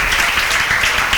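Applause from students in a classroom, a dense steady wash of clapping across a brief moment, loud and continuous with no pauses.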